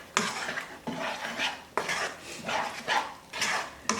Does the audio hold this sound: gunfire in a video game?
no